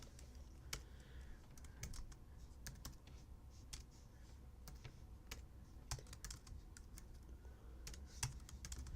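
Keystrokes patter steadily on a computer keyboard while code is entered, a quiet, continuous run of close clicks with occasional louder taps.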